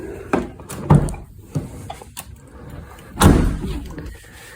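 A Ford Bronco Heritage Edition door, its window dropping slightly on opening, clunks shut with a couple of sharp thuds and latch clicks, close by, followed by another solid slam a few seconds later.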